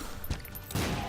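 Explosions from the video game The Binding of Isaac: two short booming blasts, the second heavier and sustained, heard alone without speech.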